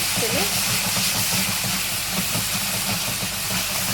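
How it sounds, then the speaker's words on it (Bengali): Ginger-garlic paste fries in hot oil with whole spices for matar paneer, giving a steady close sizzling hiss with faint scraping as it is stirred in the pan. "এবার দিয়ে দেবো আদা রসুনের পেস্ট একটু নাড়িয়ে নেবো"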